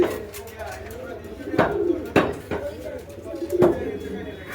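Lahori pigeons coo in soft, repeated rolling calls at close range, with several sharp knocks and someone talking over them.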